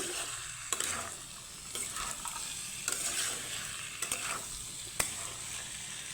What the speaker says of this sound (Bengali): এইভাবে সুন্দরভাবে কষে নিব